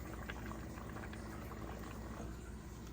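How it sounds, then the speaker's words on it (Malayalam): First coconut milk simmers in a chicken stew with carrots during Christmas cooking, giving a steady, soft bubbling hiss that runs evenly throughout with no talking. "അപ്പോൾ നമുക്കിതിലേക്ക് 1ാം പാൽ ആഡ് ചെയ്യാം."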